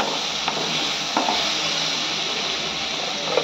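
Fried potatoes tossed into sizzling spice masala for a ridge gourd and potato curry, giving a steady hiss of frying with a few faint scrapes of stirring close by.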